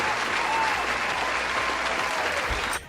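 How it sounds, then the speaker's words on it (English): Steady, dense applause from a crowd, clapping continuously at a close, even level before cutting off abruptly near the end. "Round of applause for old ToomeyLocks23."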